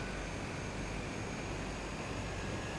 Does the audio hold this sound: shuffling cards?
no